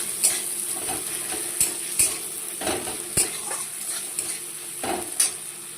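Chopped onions fry in hot oil with a dried red chilli, giving a steady sizzle broken by several sharp scrapes and clinks of a spatula stirring against the pan.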